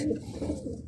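A racing homing pigeon coos nearby, a low, throaty burbling call with a few rolling pulses over about a second, heard alone.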